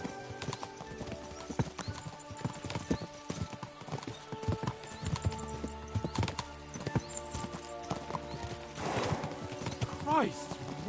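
Horse hooves clip-clop in a steady rhythm close by in the video game Kingdom Come: Deliverance II, with a whinny near the end and voices speaking over the scene.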